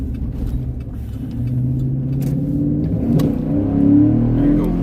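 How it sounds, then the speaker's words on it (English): A St Paul police car on Halloween night revs its engine, a loud, close mechanical drone that rises in pitch and intensity toward the end. "People like hearing the engine rev"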